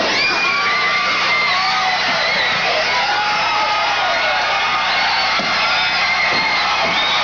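A wrestling arena crowd roars continuously, with whoops, shouts and children's yells blending into a loud, sustained cheer as a wrestler rallies the fans during a feud match.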